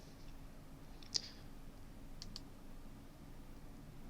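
Faint computer mouse clicks while drawing shape lines in design software, one sharp click followed by a couple of softer clicks over quiet room hiss.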